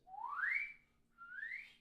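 A person whistles two rising notes during a music lesson, the first longer and stronger and the second softer after a short pause, heard alone and fairly quiet.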